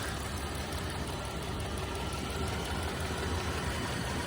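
A 2016 RAM 1500 Tradesman 4x4 pickup with over 200,000 miles idles with a steady, even rumble. The drone holds unbroken and fairly quiet, with no voices over it.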